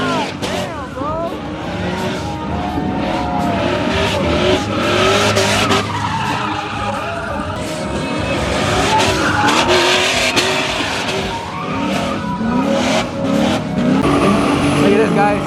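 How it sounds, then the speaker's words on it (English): Drift cars skid at a car meet, including a 240, with long, wavering tire squeals and revving engines, loud and continuous, while a voice talks over the commotion. "Now it's a bunch of drift cars."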